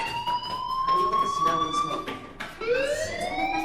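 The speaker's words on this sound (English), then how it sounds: "do you hear that fire alarm? That means you should be outside." Fire alarm in the Life Is Strange video game, a loud electronic siren sweeping in rising tones, restarting once partway through, with talk underneath.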